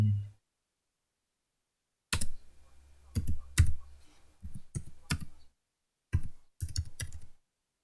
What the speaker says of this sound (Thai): ใส่รหัสให้ตรงกันแบบนี้นะครับ